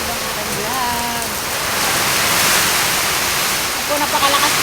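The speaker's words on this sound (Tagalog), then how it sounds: "Ang lakas po ng ulan." Heavy typhoon rain pours steadily in a dense, hissing roar, loud and close, with a faint voice briefly audible near the start and end.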